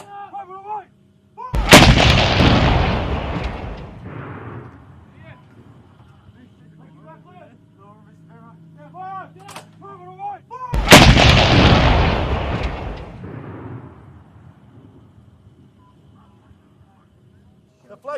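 An M777 155mm howitzer fires twice, about nine seconds apart. Each shot is a huge, close blast followed by a long rumbling decay, with crew voices calling out between the shots.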